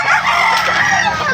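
Rooster crowing at a busy Philippine market, a bright strained call held through the whole moment, close and loud over a dense backdrop of crowd chatter and bargaining voices.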